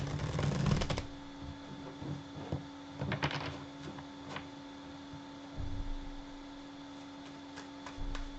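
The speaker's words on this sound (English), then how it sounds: "So now let me shuffle" Tarot cards are riffled and shuffled in short bursts of papery flicks and taps, with quiet pauses between.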